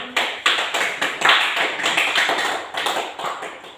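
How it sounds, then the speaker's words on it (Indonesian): Pupils in a practice-teaching classroom clapping for a girl classmate, a loud group round of hand claps with distinct rhythmic surges roughly every half second, continuing for nearly four seconds with no talk over it. "Kita semua tepuk tangan untuk Nona Grace"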